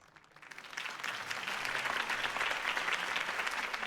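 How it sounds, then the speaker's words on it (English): Crowd applause in the Batman Telltale video game following a mayoral campaign speech for Harvey Dent: dense clapping swells in over the first second, then holds steady and full. "If only Mr. Wayne, my campaign's largest backer, could have heard that applause"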